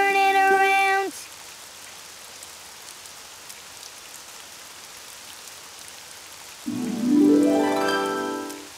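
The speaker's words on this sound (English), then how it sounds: "Oh, it's raining outside." Steady rain patter fills the gap between two short musical phrases, soft and continuous on its own before the tune returns.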